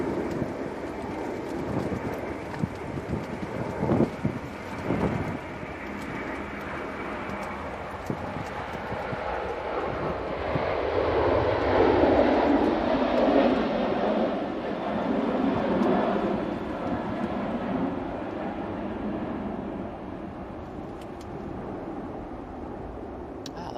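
An Aer Lingus airliner on its takeoff roll at Manchester Airport during Storm Amy, engine roar swelling from a distant rumble to a broad peak midway and then fading, with thumps and knocks and bits of nearby talk early on.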